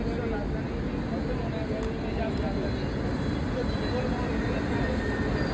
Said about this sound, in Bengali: পাশ দিয়ে বেরিয়ে যাচ্ছে ভুবনেশ্বর তেজাস রাজধানী